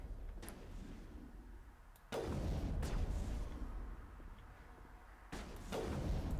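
Gunshots in the Mass Effect video game, a few heavy booming reports spaced seconds apart over a low rumbling background, fairly faint overall.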